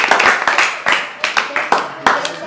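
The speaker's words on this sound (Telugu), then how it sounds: "క్లాప్ ఒకసారి." Sharp, close hand claps keep a rhythmic beat, roughly eight in a row with brief gaps and a little vocal sound between them.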